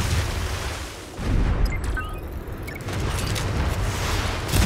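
Ship cannons firing in the futuristic strategy game Anno 2205, a rumbling series of heavy booms over a continuous low battle roar, loud and dense with no clear pauses.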